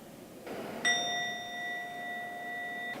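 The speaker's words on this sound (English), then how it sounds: "Both activities included a bell, which brings everyone's attention back to the moment." A mindfulness bell used during a breathing and walking exercise is struck once, giving a clear, sustained ringing tone that holds steadily for about two seconds over faint background hiss, with no voices.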